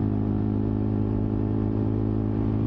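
Dirt bike engine while riding on back roads, a steady mid-pitched motor drone held at constant loudness, close and alone for a short stretch.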